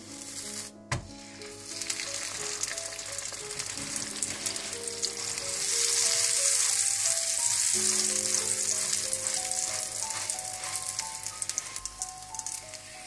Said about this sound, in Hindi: इसी तरह से आप ऊपर दोबारा मक्खन डालें, इसको पलट दें।